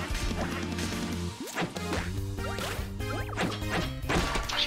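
Up smash attacks connecting in a Super Smash Bros match, a run of sharp smashing hits with whooshing swings over a steady game music bed, repeating every second or so at close, loud level.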